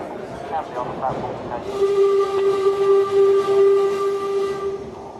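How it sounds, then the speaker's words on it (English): A London Underground train pulls into a platform crowded with Tottenham fans, a rumbling approach that becomes a sustained high whining, squealing tone over general crowd murmur. "The platform is packed with Tottenham fans as the train full of Arsenal fans pulls in."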